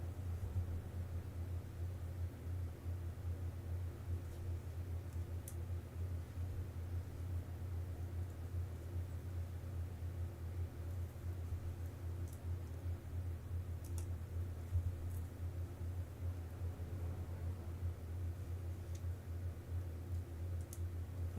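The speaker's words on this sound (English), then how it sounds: "I hear a loud truck or something." A loud truck rumbles by outside, a steady low roar that holds throughout with no talking over it.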